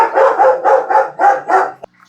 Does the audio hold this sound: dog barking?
yes